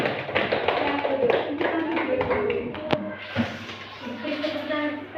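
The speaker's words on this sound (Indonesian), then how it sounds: "Tepuk tangan untuk mereka" An elementary class claps hands at a teacher's prompt, with sharp irregular claps over ongoing classroom chatter and a voice speaking throughout.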